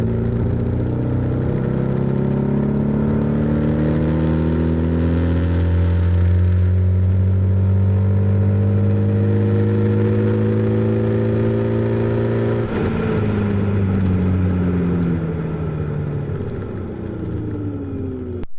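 A BMW R1250RT touring motorcycle pulls hard in sixth gear from 100 to 200 km/h, its boxer engine note climbing steadily and loudly for a long stretch, easing briefly partway through before rising again under rushing wind.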